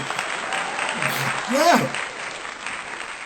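An audience claps briefly, a steady wash of hand claps over a few seconds, with a voice speaking over it.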